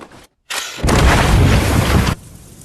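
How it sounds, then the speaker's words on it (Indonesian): A blast breaking through a cave wall in a film, a loud deep boom that follows a brief silence and rumbles on for over a second before fading into quieter ambience. "Roland akhirnya setuju untuk meledakkan tembok itu untuk terakhir kalinya"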